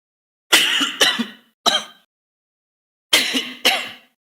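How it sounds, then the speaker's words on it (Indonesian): Close coughs and throat clearing from a man come in two short clusters with a silent gap between them, each burst sharp and loud, with no talk. "Batuk-batuk nih."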